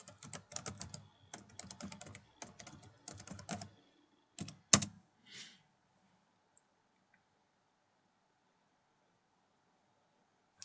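Keys clatter on a computer keyboard in quick bursts while a password is entered, close and fairly quiet, with a sharper final keystroke before the sound falls to near silence.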